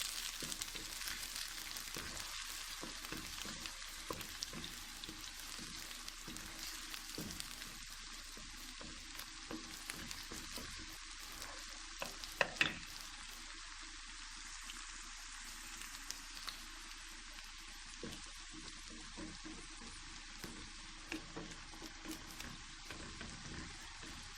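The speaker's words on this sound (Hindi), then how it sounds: "थोड़ी देर इनको भी भूनेंगे।" Ingredients for a fish curry roast in a hot pan, giving a steady close sizzle with brief stirring scrapes and one louder clink midway, with no talking.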